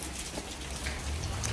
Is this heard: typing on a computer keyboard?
no